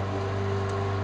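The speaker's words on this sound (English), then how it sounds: "Neighbor just started his lawnmower." A neighbor's lawnmower runs steadily in the background, a constant droning engine hum with no change in pitch or loudness and no talk over it.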